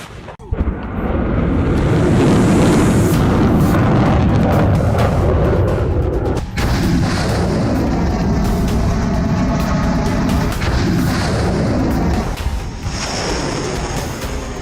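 A 2S7 Pion self-propelled artillery gun fires, producing a heavy, booming blast that rolls into a long, rumbling roar lasting many seconds; loud and sustained, with no speech.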